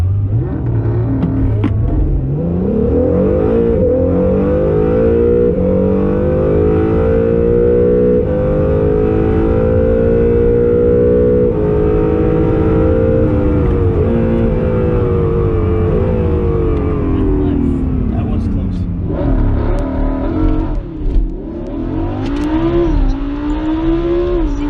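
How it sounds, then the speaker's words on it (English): A Lamborghini Huracan accelerating hard in a race, its loud engine climbing steadily through a long rising roar with brief dips between gears, heard close and without speech. "This Huracan pulls."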